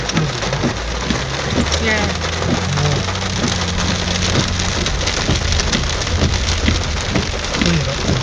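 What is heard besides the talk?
rain falling during the 2011 Ballarat flooding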